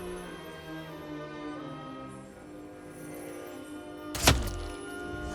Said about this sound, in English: And now he's fallen down.